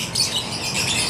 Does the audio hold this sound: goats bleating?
no